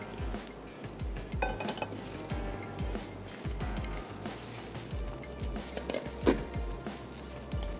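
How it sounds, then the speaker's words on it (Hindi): A wok is handled in a home kitchen while chicken is about to be fried with ginger and garlic, giving scattered close metallic clanks and clinks of cookware against a low background hum, with no talking. "और अब मैं ले लेती हूँ एक अदद वोक"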